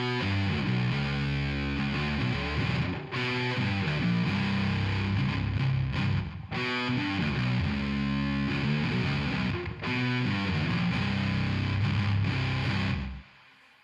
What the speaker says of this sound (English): So that's an IC Big Muff Pi, which has been modified for a thicker bottom end by GimpFX.